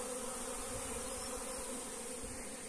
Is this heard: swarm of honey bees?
yes